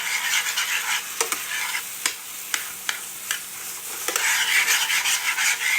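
A pan deglazed with homemade red wine, holding browned sweet sausage and peppers for a ragu, is scraped hard. Loud, continuous bubbling sizzle is cut by a series of sharp, rhythmic scraping strokes on the pan bottom.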